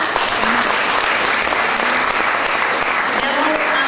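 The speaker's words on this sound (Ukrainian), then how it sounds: "Оплески!" A concert audience in a hall breaks into sustained applause, a thick, continuous roar of clapping that stays loud and even throughout, with a few voices mixed in.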